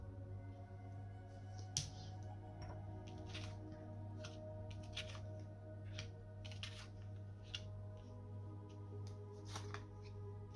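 Tarot cards are shuffled and set down in soft, quick flicks and taps, close and faint over a low steady hum, with no one speaking.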